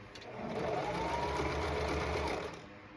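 A sewing machine stitches along a striped pants leg, sewing straight over pins, a steady close whirring run that ramps up, holds for about two seconds, then slows and fades.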